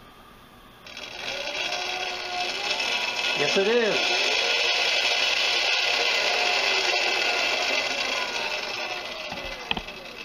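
An electric scooter motor, a 36V 1000W UberScoot fitted with an aftermarket controller, whines steadily for several seconds. The rising and falling tone sits under a brief spoken reply at close range.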